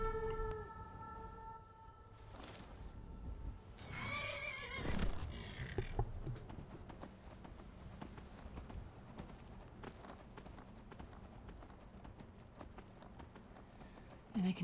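A horse in Skyrim whinnies loudly, then its hooves clip-clop in a fast, steady galloping rhythm that carries on at moderate volume.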